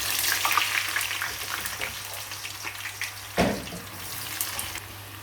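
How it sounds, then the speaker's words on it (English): Aubergine and potato pieces frying in hot oil give a steady crackling sizzle, with a brief louder splash or clatter partway through. "So you want to be frying this for about almost a minute."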